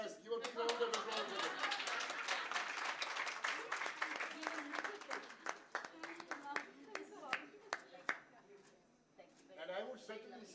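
Audience applause at a women's empowerment event, many hands clapping loudly at first, then thinning to scattered individual claps while voices talk and laugh over it.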